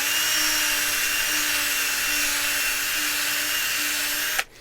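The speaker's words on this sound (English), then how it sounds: "That is not how you use a drill bit" A power drill runs continuously at a steady high whine for several seconds, close and loud, then cuts off abruptly at the end.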